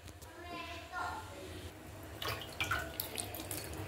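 Water running and splashing at home while surfaces stained with spilled tea are washed and scrubbed, an intermittent, nearby flow with sharper splashes toward the end and voices in the background.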